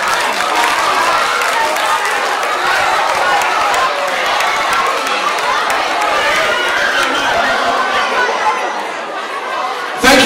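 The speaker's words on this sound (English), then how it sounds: "Give a round of applause" Loud, dense applause and crowd chatter fill an audience at a student talent show, sustained throughout with cheering mixed in.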